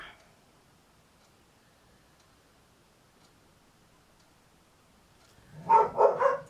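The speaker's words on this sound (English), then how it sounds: "Oops, there's the dogs." Dogs bark in a short burst of three or four loud, close barks that break a long near-silent stretch, with no one talking.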